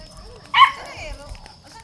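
A Pomeranian gives a single sharp, fairly close bark amid quiet surroundings while people murmur nearby in a mall.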